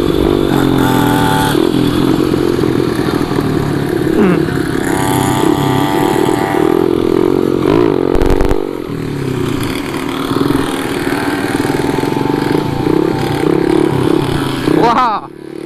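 Small motorcycles race at a minibike event. A loud, revving engine roar rises and holds as a bike speeds past, with people talking over it and a short clattering burst midway.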